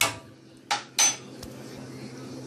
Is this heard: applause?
no